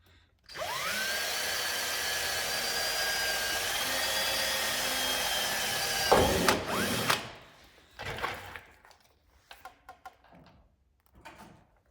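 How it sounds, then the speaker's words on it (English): A power drill whirs steadily for several seconds, then bites with a harsh grinding burst before stopping, drilling a hole for a rear spoiler on a 1976 Pontiac Trans Am, followed by scattered clanks and handling noises. "So go ahead and drill this hole here."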